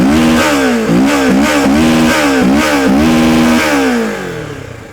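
A Kawasaki Versys 650 motorcycle with an underbelly exhaust revs up close and loud, its parallel-twin engine blipping repeatedly in quick, rising bursts before settling back to a lower idle.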